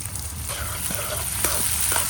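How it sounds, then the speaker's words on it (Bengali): Chopped onion and garlic fry in hot soybean oil with a close, steady crackling sizzle, broken by occasional sharp clicks from stirring. "পেঁয়াজ আর রসুন ভাজা হয়ে গেছে"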